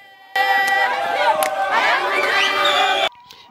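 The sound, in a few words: village crowd welcoming a provincial official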